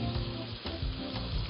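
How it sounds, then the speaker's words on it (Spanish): Paprika frying in a pan with tomato, a steady loud crackling sizzle that swells and dips slightly as it cooks, close and continuous with no voices. "que el pimentón se fría"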